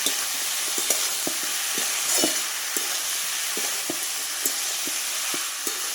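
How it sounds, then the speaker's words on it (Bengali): Potatoes and onions fry in fish oil, a dense hissing sizzle that runs throughout, punctuated by regular light taps of a spatula stirring in the pan. "আলু পেঁয়াজ সব দিয়ে এখন মাছের তেলটা দিয়ে ভেজে নেব।"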